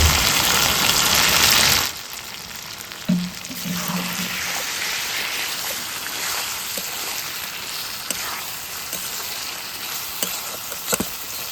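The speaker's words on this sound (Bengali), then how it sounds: "হালকা করে একটু জল দিয়ে দিচ্ছি।" Water is splashed into a pan of cooking chicken liver and stomach, setting off a loud hissing burst that quickly settles into a quieter, steady simmering sizzle with faint stirring clinks.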